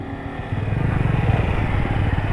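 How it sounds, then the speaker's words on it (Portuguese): A motorcycle engine drones steadily nearby on a street, its low rumble growing a little louder as it passes. "E passa carro, volta carro, chega moto, sai moto."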